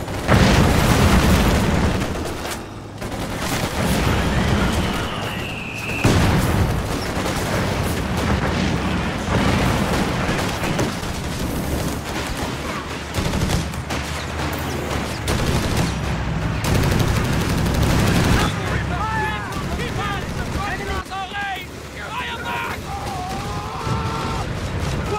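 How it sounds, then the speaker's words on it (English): Company of Heroes 3 battle with flamethrowers: sustained roaring bursts of fire mixed with heavy booms, gunfire and explosions, loud and dense across the whole stretch, with brief shouted voices. "god, do the flamethrowers sound and look so cool in Company Heroes 3?"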